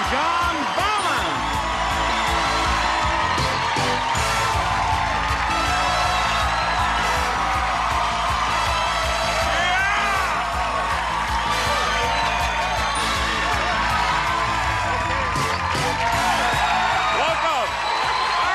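A studio audience at the 1984 Match Game-Hollywood Squares Hour game show applauds and cheers in a dense, steady roar that lasts throughout, mixed with music and whoops.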